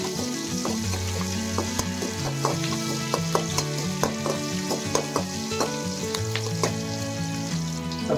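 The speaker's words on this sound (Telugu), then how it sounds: "ఇలా ఆవాలు, జీలకర్ర, పచ్చిమిర్చి ముక్కలు ఇలా కొద్దిసేపు వేగనిస్తాం" Mustard seeds, cumin and chopped green chillies fry in hot oil for a tempering, giving a steady close sizzle with crackling pops and occasional utensil clinks throughout, no voices.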